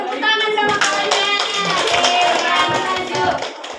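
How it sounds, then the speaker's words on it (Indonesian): Classmates clap together for a prize winner during a university class session, a dense, steady burst of many hands held close and loud, with voices mixed in. "Ya, tepuk tangan sama kawannya."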